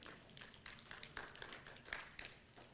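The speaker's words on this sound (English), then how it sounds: "let's give the Lord a clap offering" Church congregation claps together in a quiet, faint burst of rhythmic hand claps, fairly even in tempo and heard from a distance.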